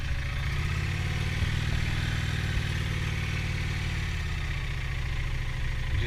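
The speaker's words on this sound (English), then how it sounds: "we're going to try and take this bike out for a little bit of spin" A 750 motorcycle engine idles steadily and close by, with a smooth continuous rumble at even loudness throughout, before setting off on a ride.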